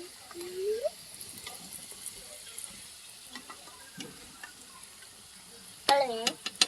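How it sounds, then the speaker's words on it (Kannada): Karjikai dumplings sizzle in hot oil, a soft, steady frying hiss with occasional clinks and stirring scrapes, and a brief louder clatter near the end. "ಇವಾಗ ಕರ್ಜಿಕಾಯಿ ಹಾಕ್ಕೊಂಬಿಡೋಣ. ಎಣ್ಣೆ ಜಗ್ಗಿ ಕಾದತ್ತಲ್ಲ, ಅದಕ್ಕಾಗಿ ಎರಡೆರಡು ಮೂರು ಹಿಂಗೆ ಹಾಕ್ತೀನಿ."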